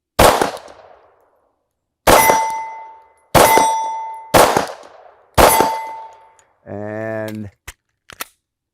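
Gunshots strike a 12-inch chest-size steel plate target at 20 yards, five sharp loud cracks spaced about a second apart, several ringing with a metallic clang, followed by a brief electronic beep and talk.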